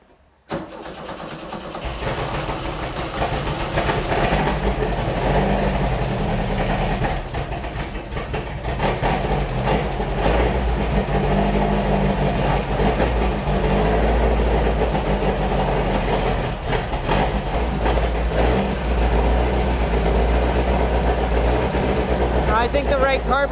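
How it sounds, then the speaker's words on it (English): A Beck 550 Spyder replica engine, just back from a carburetor cleaning, cranks and catches, then settles into a loud, steady, slightly rough idle that runs without a break. "So we should be able to get it to run, and it should basically idle."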